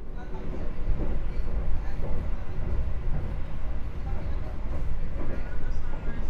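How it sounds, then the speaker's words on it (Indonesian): Rumbling rail noise rides inside the Argo Semeru executive train as it passes the Ranggajati train near Wonokromo station, a dense, continuous low roar with faint rhythmic clatter, while someone talks over it. "Barusan ketemu kereta api Ranggajati dari Jember tujuan ke Cirebon ya"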